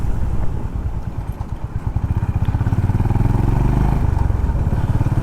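Honda CB350RS motorcycle engine running steadily at close range, a throaty pulsing drone that builds slightly as the bike rides on, with no talking.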